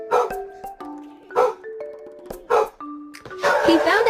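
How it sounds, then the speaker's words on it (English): A frightened dog barks in several sharp, close bursts, mixed with whines and yips, with some noisy rustling near the end. "didn't understand why he was barking"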